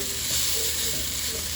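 Onions fry in a skillet with a steady, close sizzle that holds unbroken throughout, with faint stirring underneath and no one talking.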